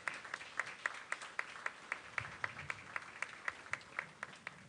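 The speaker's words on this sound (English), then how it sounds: "Let's give them a round of applause one more time." Audience applause at a junior fair king and queen coronation, faint and distant, with a steady run of claps and sharper individual hits repeating through the whole stretch.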